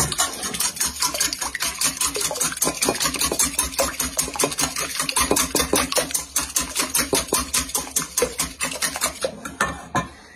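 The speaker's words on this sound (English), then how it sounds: "I'm going to beat that up real good, okay? Just whisk it up" Whisking an egg mixture for a French toast bake in a bowl: a steady, brisk run of rapid clinks and taps from the whisk against the bowl, close and continuous for about ten seconds, with no talking.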